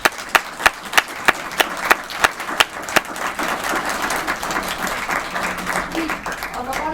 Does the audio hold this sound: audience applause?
yes